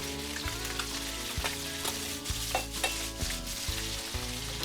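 Bass fillets fry in a hot skillet with a loud, dense sizzle and crackle that carries steadily throughout, with spattering bursts and a low rhythmic hum underneath.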